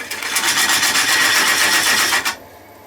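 Gouge cutting into wood spinning on a lathe turned down to about 800 RPM while shaping a bowl, throwing long stringy shavings; a steady, loud, rasping scrape runs for over two seconds, then breaks off into near quiet.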